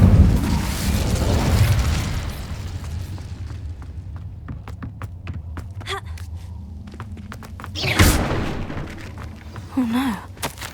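Fiery burst from the Incendio spell in Hogwarts Legacy, a roaring whoosh at the start followed by scattered crackles and pops, then another sharp flare near the end.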